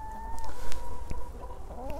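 Free-range chickens on a Turkish poultry farm cluck close by, with several short overlapping calls and soft squawks coming in quick, irregular bursts.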